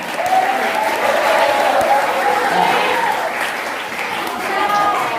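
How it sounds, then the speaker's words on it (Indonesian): Students and teachers at a Ramadan Quran recitation gathering at an Islamic junior high school give loud, sustained applause. The clapping is continuous and full, with voices mixed into the crowd. "Kasih tepuk tangan dulu buat semuanya."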